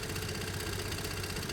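Piaggio Fly scooter engine idling steadily up close, with a slightly tappety, ticking valve rhythm under a constant low hum.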